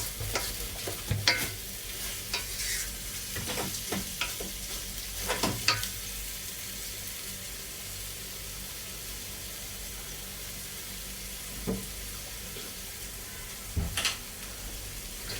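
Beef mince sizzles steadily in a pan for a curry, a continuous hiss with occasional louder scrapes and stirring clatters near the start and again near the end.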